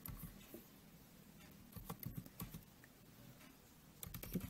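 Computer keyboard keys tapped in short irregular runs during accounting data entry, soft close clicks with pauses over a faint room hum.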